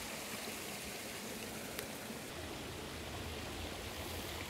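Water runs through a clear transfer hose into a 1.5-inch suction hose, a faint, steady rushing hiss like a small stream that continues evenly without interruption.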